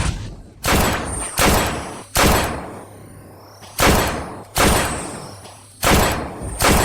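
Gunfire from a sniper squad comes as a series of loud, heavy booming shots spaced about a second apart, each one trailing off in a long echoing decay.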